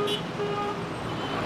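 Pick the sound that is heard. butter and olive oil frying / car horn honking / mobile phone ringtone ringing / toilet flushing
car horn honking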